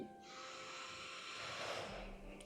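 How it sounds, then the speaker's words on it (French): A slow, steady breath drawn in through the nose during a calm relaxation exercise, a soft airy hiss that swells gently and lasts about two seconds, close and quiet, with no talking. "On peut refaire une inspiration par le nez."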